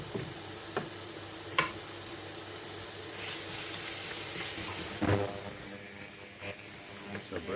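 Onions fry in a pan over low heat, giving a steady sizzle and hiss with occasional stirring knocks and scrapes.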